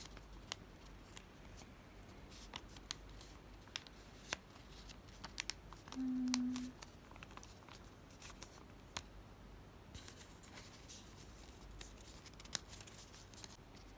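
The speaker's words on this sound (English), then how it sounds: "So I cut this part 7 times." Scissors cutting folded paper for a paper lantern, a sparse series of faint crisp snips and rustles at close range in a quiet room, with a short soft hum near the middle.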